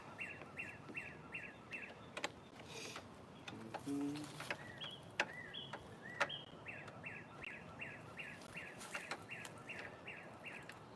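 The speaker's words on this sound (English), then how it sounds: "What kind of bird is that?" A bird calls repeatedly in quick series of short chirps, fairly faint and outdoors, with a few scattered clicks and knocks between the calls.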